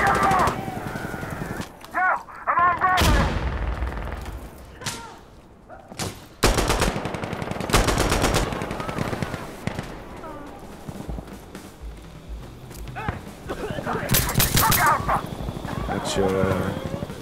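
Gunfire in the tactical shooter game Insurgency Sandstorm: several sharp, loud shot bursts at irregular intervals, mixed with other game noise and a voice in the background.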